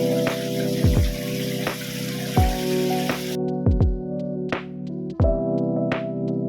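Water pours steadily into an aquaculture container for about three seconds and then stops, set against a background of sustained musical tones and soft rhythmic thumps.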